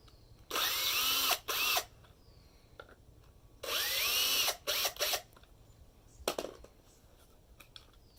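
A power drill with its clutch set on 3 driving bolts on a Fastcap three-way clamp: two loud whirring bursts, each with a short follow-up pulse, then a brief clicky buzz, with quiet gaps between.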